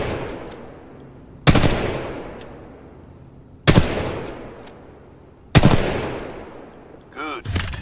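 Weapon firing in Titanfall 2 video game training, three loud, sharp gunshots spaced about two seconds apart, each ringing out with a long fading tail, followed by a short mechanical reload clatter.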